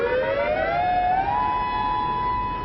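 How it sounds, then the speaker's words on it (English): Outdoor civil defense hurricane warning siren wailing steadily, its tone rising then holding a high sustained pitch, loud and continuous throughout with no talk. "When the warning sirens sound,"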